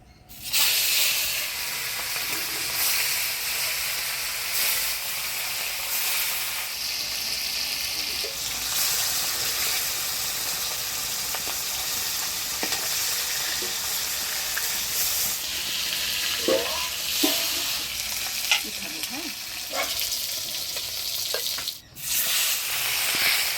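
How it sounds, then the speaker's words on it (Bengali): Small hilsa fish fry in hot oil with a loud, steady sizzle that fills the whole stretch, broken only by a few light scrapes and clinks of stirring and one brief dip near the end. No one speaks. "এবার মাছগুলো ভেজে নেবো"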